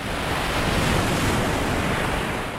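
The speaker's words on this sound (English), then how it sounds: "the waves hit the beach more often." Ocean waves wash onto a beach in a continuous, loud rushing surf, mixed with gusty wind buffeting the microphone and no voices.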